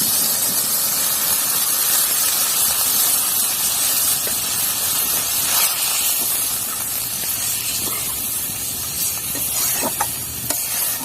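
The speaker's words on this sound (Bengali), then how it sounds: "কষানো তো হয়ে গেছে, এবার এর মধ্যে দিয়ে দিচ্ছি জল।" Water hits a pan of hot frying masala for a pabda fish curry, setting off a loud, steady hiss and sizzle of steam that continues throughout with no talk.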